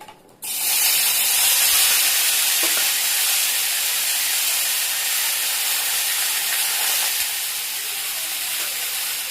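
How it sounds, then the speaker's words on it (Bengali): Pointed gourd and potato pieces tipped into a hot pan of oil with bay leaves and panch phoron, a sudden loud burst of hissing sizzle that holds strong and slowly eases. "এবার পটল আলুগুলো আমি একসাথে ঢেলে দেবো"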